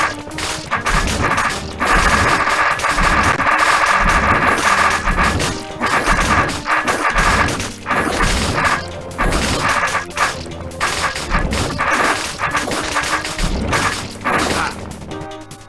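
Bombs going off in the Secret of the Blank Dungeon video game, a loud, dense run of crashing blasts and clattering impacts over busy game music, continuing steadily throughout.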